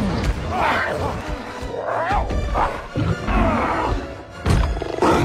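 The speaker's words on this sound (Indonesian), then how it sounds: "muncullah harimau masuk ke dalam kafe untuk mencari daging" A tiger roars repeatedly inside a cafe in a film, loud growling bursts rising and falling over several seconds amid frightened crowd commotion and shouts.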